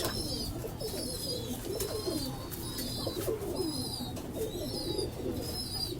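Red-eyed pigeons, both male and female, coo steadily in low repeated rolling phrases, with sharper chirps from other birds scattered above them throughout.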